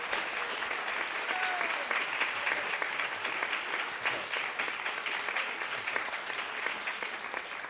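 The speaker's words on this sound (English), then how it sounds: "Could everyone applaud YIVO?" Steady applause from a conference hall audience at an academic keynote event, a dense, even wash of many hands clapping that holds for several seconds without a break.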